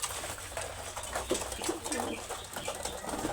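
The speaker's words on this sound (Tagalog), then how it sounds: "Ito yung pangmalayuan naming kalapate." Pigeons kept as homing birds coo in a loft, soft repeated calls mixed with rustling and brief wing flaps, close by over a busy background.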